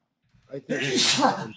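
A single sneeze, preceded by a short inhaled breath, close and fairly loud.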